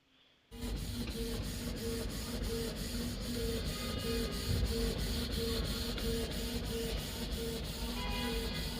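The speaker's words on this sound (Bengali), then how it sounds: "তো আমি প্রিন্ট দিলাম" A Canon G-series inkjet printer prints a page, a steady continuous mechanical whir with a regular repeating rhythm from the print head and feed, running loud and close without pause, with no talking.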